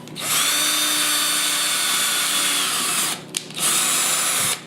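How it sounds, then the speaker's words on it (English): A power drill whines steadily at high speed for several seconds drilling a pilot hole for an eye bolt, stops briefly, then spins up again before cutting off. "I have my drill bit at a certain length, random, and then I just drill it"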